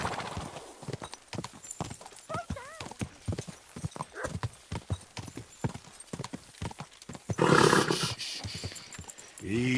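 Horse hooves clip-clop in a steady rhythm, close and loud, in the video game Kingdom Come: Deliverance II, joined partway through by a horse's neigh and a louder roaring burst near the end.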